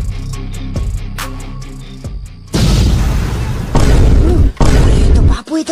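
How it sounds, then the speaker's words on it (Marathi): Firecrackers set off outdoors: after a stretch of tonal music, a run of loud, booming blasts rolls in close, long and rumbling, with short gaps between the bursts. "फटाके लावले काय त्यानं?"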